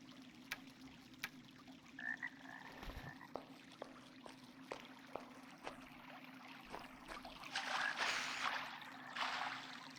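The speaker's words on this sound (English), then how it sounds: "There was a frog." A frog in the dungeon video game Arx Fatalis croaks in a series of short, evenly spaced clicks over a low steady hum, with faint water trickling and a brief wash of noise near the end.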